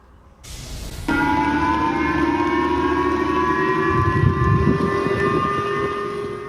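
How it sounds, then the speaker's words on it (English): Wailing civil defense warning sirens in Japan rise and hold a long, loud tone, sounding over the distance with a low rumble underneath and no talking. "Those are warning sirens sounding off in Japan after North Korea launched a ballistic missile over the country."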